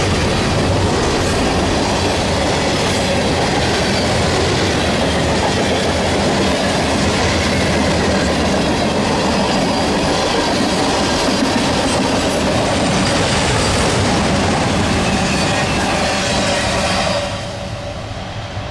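A train clears a 35 mph limit through Franklin and speeds back up toward 50 mph, a loud, close, continuous roar of cars and wheels with clickety-clack on the rails, fading a little at the very end.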